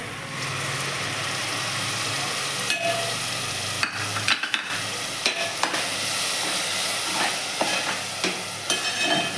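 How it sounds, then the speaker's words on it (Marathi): Tomatoes and onions frying in oil in a pan for a potato soybean bhaji, a continuous close sizzle with frequent clattering stirs and scrapes of a spoon throughout, no voices. "टमाटर लाल होऊ द्या. थोडं तेल सुटलं की मग आपण मसाले टाकूया."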